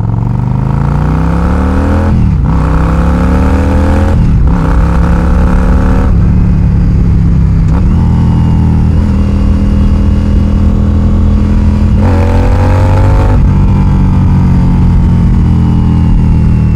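A cruiser motorcycle engine drones loud and close while riding, rising in pitch through each gear, then dipping sharply at the shifts around every few seconds, with no talking.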